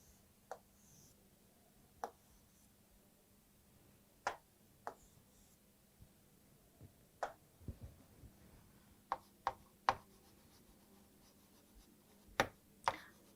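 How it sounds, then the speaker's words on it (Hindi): Marker strokes on a classroom board, a run of short, distinct taps and squeaks spaced irregularly, close and fairly quiet with no talking. "मैं इसको ऊपर लिख देती हूँ लाइन को आपके लिए"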